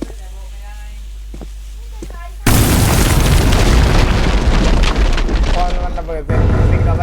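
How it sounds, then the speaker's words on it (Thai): After a quiet low hum with faint voices, a sudden loud black powder explosion bursts in and its roar rumbles on for several seconds, with voices faintly audible beneath. "แล้วมันก็จะระเบิด"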